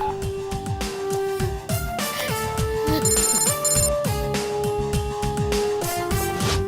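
An electronic telephone ringtone sounds in a Telugu movie scene as a loud, repeating melodic pattern over steady rhythmic background music, with no speech.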